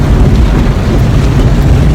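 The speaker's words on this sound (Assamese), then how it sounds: "একদম বৰষুণ দিছে" Heavy rain roars as a dense, loud, low rumbling wash near a moving car during a drive to Duliajan, with no voices heard.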